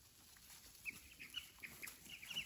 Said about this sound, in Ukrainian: Курчата Американо.